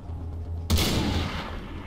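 A sniper rifle fires in Far Cry 3: one loud, sharp report that rolls into a long booming echo and rumble, standing alone over a low steady background hum.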